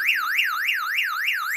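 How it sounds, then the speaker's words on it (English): Warbling electronic alarm siren rising and falling in fast regular sweeps, about three cycles per second, loud and clear on its own with no talking. "Alarm!"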